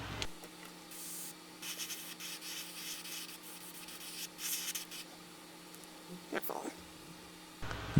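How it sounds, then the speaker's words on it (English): An airbrush sprays paint onto a handmade glide bait in soft hissing bursts of a few seconds each, quiet and close, with brief pauses and a faint background hum. "we're going to spray it right along the top of the bait here"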